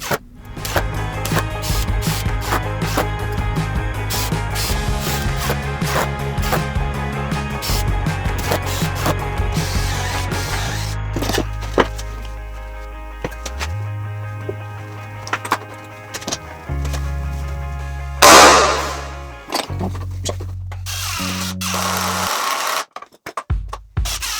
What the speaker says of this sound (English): I'm using 1 1/4 inch external wood screws to fasten the 1/4 inch plywood to the frame.